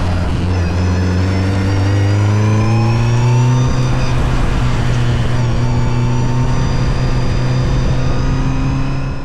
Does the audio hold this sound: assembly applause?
no